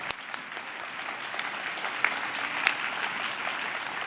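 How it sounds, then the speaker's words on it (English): The audience at a UFS campus graduation ceremony applauds the graduates with dense, sustained clapping from a large crowd, a few sharper claps popping out near the middle. "Let us put our hands up and give them a round of applause."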